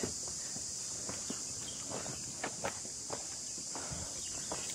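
Hikers' footsteps crunch along a rocky trek trail on the climb to Kalavantin Durg near Prabalgad, a steady run of soft, close steps over a constant hum of crickets and insects.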